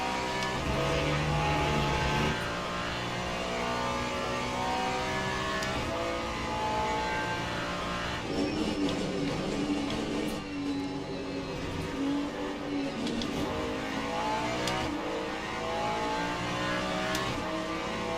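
Ferrari and BMW race cars, including a Ferrari 296, roar around Interlagos in a racing video game. A dense, continuous engine drone holds throughout, with revs rising and falling as the cars accelerate and shift.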